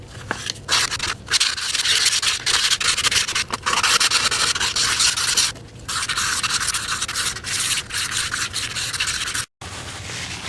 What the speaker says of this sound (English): a lot of hand sanding here, but we will get this to where it's raw aluminum